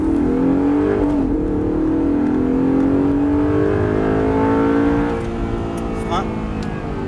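An Audi R8 on a track revs hard as it accelerates, its engine note climbing in pitch close by, then easing off, while a voice talks over it.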